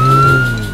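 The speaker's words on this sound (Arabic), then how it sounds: "هذه سيارة شرطة" A brief burst of a toy or cartoon police car siren, a steady high tone over a low engine rumble, loud and close, lasting under a second.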